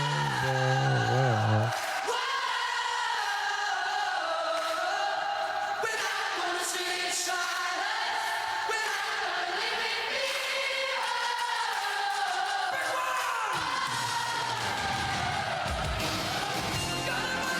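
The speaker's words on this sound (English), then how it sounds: "the crowd is already singing at the top of their lungs" A concert crowd at a show sings loudly together, a sustained roar of massed voices with whoops and yells rising and falling over the music, with a voice talking over it.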